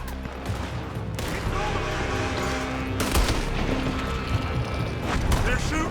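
Rapid bursts of gunfire in a Red Dead Redemption II shootout, with dense volleys and sharp individual shots cracking over a steady game soundscape.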